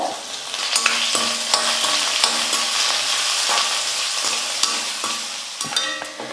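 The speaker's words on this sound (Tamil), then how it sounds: "ஒரு சின்ன வெங்காயம் எடுத்து பொடியாக கட் பண்ணிக்கிட்டு அந்த வெங்காயம் சேர்த்துக்கிறேன். கொஞ்சம் கறிவேப்பிலை." Finely chopped small onions and curry leaves fry in hot oil, a bright continuous sizzle broken by frequent sharp clicks and scrapes of a spoon stirring against the pan.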